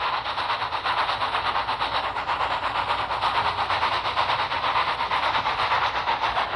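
Thomas the Tank Engine shunts in the yards with a steady, moderately close rumble and a faint rhythmic clatter of wheels on rails, and nobody speaks.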